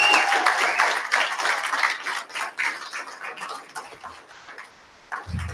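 Audience applause at a Sydney ex-Jehovah's Witness community event, a steady patter of many hands clapping in a room that fades briefly before a short final burst.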